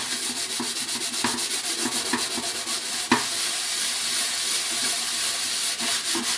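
A cooking pot scrubbed with sugar and dish detergent, likely using steel wool, giving a steady, close rasping scour of quick repeated strokes with one sharper knock midway.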